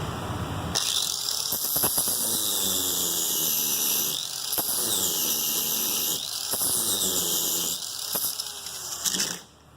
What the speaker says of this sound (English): We're going to grind it off a little bit so that the plastic doesn't touch it.